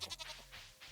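Baby goats on a Stardew Valley farm, a couple of short bleats in quick succession, faint and close, no talk over them.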